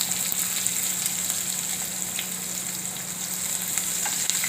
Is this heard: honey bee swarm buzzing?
no